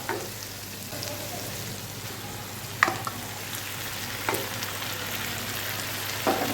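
Onions and tomatoes fry in a pan for a spicy Tamil chutney, giving a continuous soft sizzle with a few sharp taps and scrapes of a spoon stirring.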